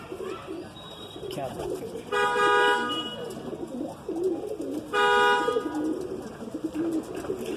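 Andhra-breed pigeons coo softly in the background while someone talks in Hindi, and two short car horn blasts sound in between.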